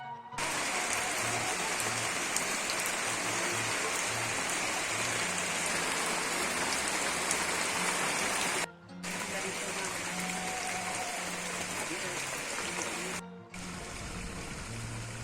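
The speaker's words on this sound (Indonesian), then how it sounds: "Di sini hujannya makin lebat ya." Heavy rain pours steadily over a countryside village in a dense, loud hiss that holds almost without pause, broken only by two brief cuts, with a low rumble underneath.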